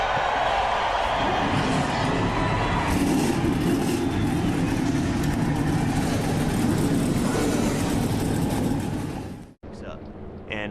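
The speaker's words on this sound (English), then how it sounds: "Gentlemen, start your engines!" A field of NASCAR Racing 2003 race cars at the Daytona 500 fires up together into a loud, sustained, layered engine roar. The roar holds steady before cutting off abruptly near the end, with speech mixed in.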